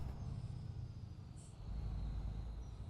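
Heavy truck from Euro Truck Simulator 2 driving in-game, a steady loud low engine drone with road rumble that swells slightly toward the end, no talking.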